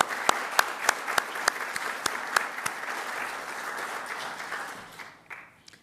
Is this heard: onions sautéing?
no